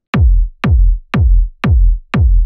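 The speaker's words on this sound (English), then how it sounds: "it's better that you have a kick sample that has a quiet tail so that you can use that tail to make the rumble" Techno rumble bass built from a kick drum sample's quiet tail, five loud isolated thumps at an even pace, each with a sharp attack decaying into a short deep boom, separated by silence.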